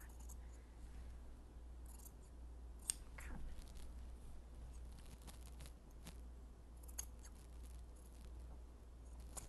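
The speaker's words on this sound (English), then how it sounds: "And then you're just going to cut all the way around here." Scissors snipping through cotton T-shirt fabric around the sleeve, soft close crisp cuts in an irregular rhythm over a steady low hum, with no talking.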